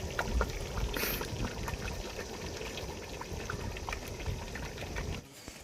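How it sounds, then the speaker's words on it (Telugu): Coffee bubbling as it boils in a pot in a village kitchen, a steady close churning and gurgling wash with no talk, cutting off near the end. "కాఫీ కాఫీ ఉడికినట్టు ఉడుకుతుంది"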